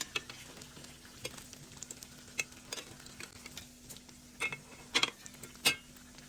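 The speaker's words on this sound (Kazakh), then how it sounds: "сосын орташа отта екі жағынан қуырасыздар" Potato-filled pirozhki frying over medium heat in hot oil: a soft, continuous sizzle with scattered ticks and louder scraping clinks near the end, close and fairly quiet, with no voices.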